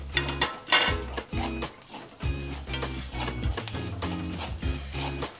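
Flattened rice dry-roasting in hot salt in a pan on high flame, with rhythmic scraping and clattering of a metal spoon against the pan, repeated stirring strokes close up, no talking.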